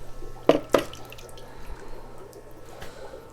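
Tree roots are rinsed in lukewarm water to wash off the soil, giving a couple of sharp splashes early on, then quieter intermittent dripping and sloshing, close up and without talk.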